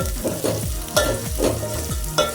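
Moth beans being sautéed in oil for Kolhapuri misal, with loud rhythmic scraping strokes of a spatula against the pan over a continuous sizzle.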